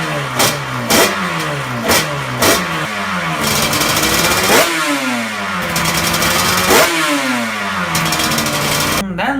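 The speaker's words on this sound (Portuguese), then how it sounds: "O motor de 2 tempos é aquela cortador de grama que você vê, mobilete, RB, que tem aquele barulhinho mais fino" Small two-stroke engine like a moped or lawnmower running close by, with a thin buzzing tone that rises and falls through repeated revs, then settles into a sustained higher whine before dropping again.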